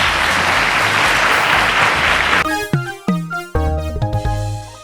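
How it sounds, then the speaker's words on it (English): Studio audience at a quiz show final applauding, about two and a half seconds of dense clapping that then gives way to loud music with heavy beats. "Ladies and gentlemen, a round of applause."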